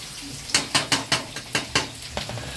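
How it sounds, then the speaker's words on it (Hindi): A spatula scrapes and stirs onions in a frying pan in quick, rhythmic strokes over a soft sizzle of frying. "और ये प्याज भुना रहा है।"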